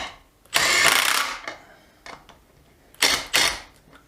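Makita DTD171 cordless impact driver running in two bursts, each a loud, dense buzzing whir lasting under a second, with a quick tap between and a few shorter blips near the end, heard close up.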